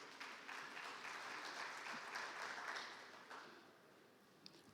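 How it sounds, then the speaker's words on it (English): An audience at an agriculture conference session applauds a governor's representative, giving a few seconds of moderate, slightly distant clapping that tapers off toward the end. "Please, a round of applause."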